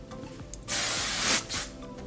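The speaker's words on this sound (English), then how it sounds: "I sprayed it with the wrong thing" A short burst of aerosol hair spray hisses for about a second, pauses briefly, then gives a quicker second burst, close and fairly loud.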